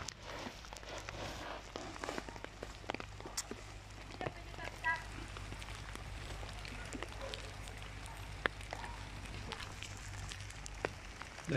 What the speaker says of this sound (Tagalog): So nakapayong tayo. Umuulan kasi.